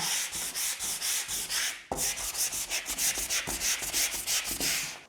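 Hand sanding a wardrobe with 400 grit sandpaper: steady rhythmic back-and-forth rasping strokes, close and loud, with a brief pause midway and no talking.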